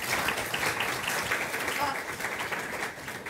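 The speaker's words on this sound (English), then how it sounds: "So please give them a warm round of applause and welcome them." Audience applause welcoming three speakers at an information privacy panel discussion, steady broadband clapping from a crowd sustained throughout, fairly loud and continuous with no distinct pauses.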